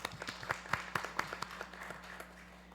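Audience applause at a forensic and criminal sciences symposium, sparse, uneven claps from a small crowd, fairly faint and distant in a large hall.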